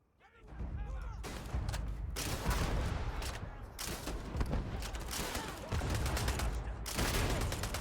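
Dense, continuous gunfire of a chaotic firefight in the space game Starfield, bursts of rapid shots and heavy impacts running almost unbroken at high loudness, with a voice faintly mixed in.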